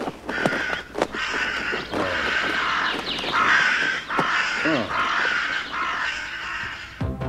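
Several crows caw repeatedly with harsh, rasping calls that overlap and come in bursts, loud and fairly close, with a few sharp clicks and no talking.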